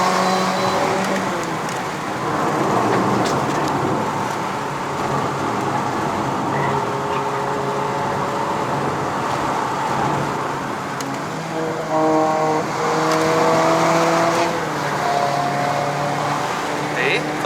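A 2015 Toyota Corolla Altis 2.0V with a CVT climbs a mountain road, its engine droning steadily inside the cabin with a rising tone in the later part, while someone talks over it.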